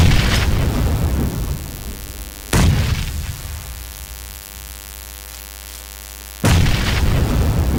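Grenade explosions in PUBG, three heavy booms spaced a few seconds apart, each a sudden loud blast that rumbles and fades slowly over a steady low hum.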